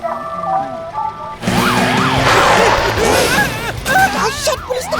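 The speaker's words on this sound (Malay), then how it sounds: "Wah, ada motosikal polis. Tak tahu pun. Siap bunyi siren dah ada lampu menyala-nyala." A police motorcycle siren wails in rising and falling sweeps, near and loud, switching on abruptly after a quieter opening with steady tones and continuing over busy traffic noise.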